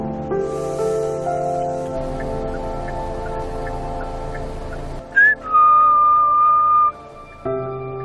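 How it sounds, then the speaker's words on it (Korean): Human whistling rings out in a snowy wild mountain setting where mountain goats roam: a few short whistled notes over a steady ambient bed, then one long, clear sustained whistle that stops abruptly. "휘파람 소리에 고개를 든"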